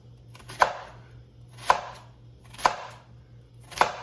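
A knife chopping an onion on a board, four clean cuts spaced about a second apart over a faint low hum, close and crisp with no voices.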